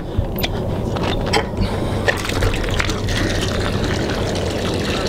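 Water gushes and splashes steadily into a container on a farm on a frigid, icy morning, a continuous close liquid rush with a low rumble underneath.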